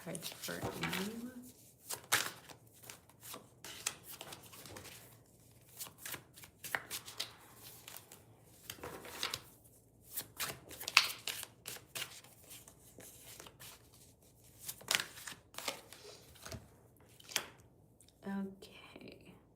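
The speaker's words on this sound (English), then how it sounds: "Let me go ahead and get 3 cards for you." Tarot cards shuffled during a live reading, giving soft repeated riffles and slaps that come in clusters, close but fairly quiet, with a voice speaking at times in between.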